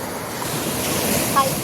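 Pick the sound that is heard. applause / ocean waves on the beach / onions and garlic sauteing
ocean waves on the beach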